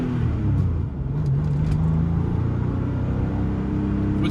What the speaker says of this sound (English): let's just take a little ride in the 1998 Porsche 993 C2S